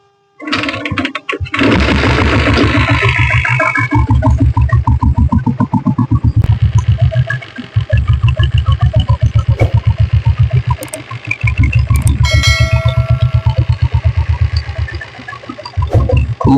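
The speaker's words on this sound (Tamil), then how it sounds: "இப்போ நான் வண்டி ஸ்டார்ட் பண்ணி காட்டுறேன்" A company-fitted diesel Bullet motorcycle is started and left idling, giving a loud, close, thumping beat with very even rapid pulses, a brief drop near the middle and then a steady idle again.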